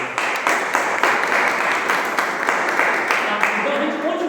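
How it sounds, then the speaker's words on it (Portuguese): A church congregation applauds the Lord with steady, sustained clapping that fills the room, fairly loud and continuous with no break. "Você pode aplaudir o Senhor"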